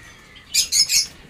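Budgerigar chirping close by, three quick bright bursts of chirps in a row, with no talking.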